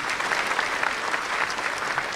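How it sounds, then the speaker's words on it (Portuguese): Warm applause from a congregation at a Padre Cícero Mass, a brief, even patter of many hands clapping at a moderate distance. "uma calorosa salva de palmas"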